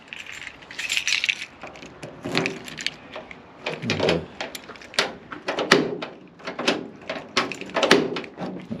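The rear door lock of a VW LT van is worked repeatedly, a series of sharp metallic clicks, clunks and rattles of the handle and latch, close up and irregular with short pauses between actions.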